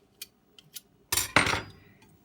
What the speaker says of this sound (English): Periodically, I will take my knife and clean the pastry blender off